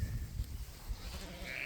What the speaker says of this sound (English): We just got these goats and sheep moved to a new paddock here.